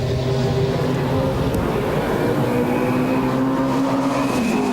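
Race car at the 1999 Bathurst 1000 accelerating out of a pit stop, its engine a loud, steady roar that holds its note across the whole stretch, with a rising pitch toward the end as it pulls away.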